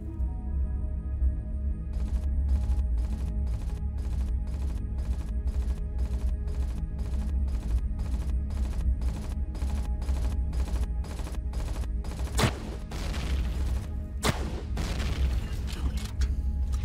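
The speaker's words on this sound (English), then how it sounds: "They really like their sentry guns, don't they?" Sentry guns in Empyrion Galactic Survival fire a long, evenly spaced burst of rapid repeating shots that carries on for many seconds, followed by a few heavier isolated blasts near the end, all over a constant low hum.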